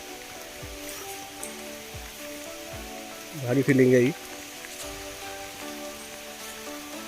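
Rain falls steadily on a path between trees and fields in Ratnagiri, a soft, even patter and hiss, with a short spoken remark close by partway through.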